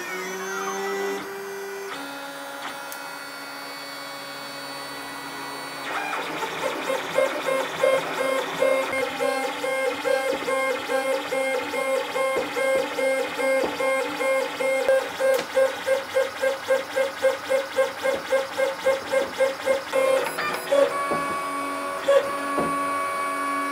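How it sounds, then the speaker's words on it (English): A 3D printer whirs into motion, its stepper motors humming and buzzing in rapid rhythmic pulses, steady and close, with shifting whining tones. "So let's kick off the printer and see what comes out of it."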